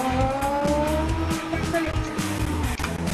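A car in the CarX Drift Racing video game drifts and brakes hard into a corner, its engine roaring loud and steady under a long tire squeal and skidding.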